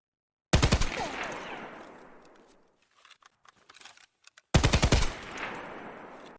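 Stock SA58 rifle fire in Escape from Tarkov: two loud, fast bursts of automatic gunfire, each trailing off into a long echoing decay, with scattered quieter clicks and clatter in the gap between them.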